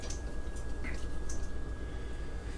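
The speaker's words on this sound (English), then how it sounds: "So, we're going to pour it through this colander here and let it drain out" Liquid from opened fridge jars drains through a colander into a bowl underneath, giving faint, sparse drips and a soft trickle over a steady low background, with no talking.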